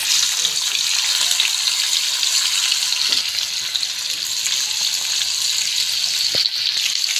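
Salted, turmeric-rubbed fish frying in hot oil, one piece after another for a gourd curry, giving a steady, loud, close sizzle with soft crackles throughout.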